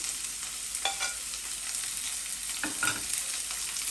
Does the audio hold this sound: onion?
yes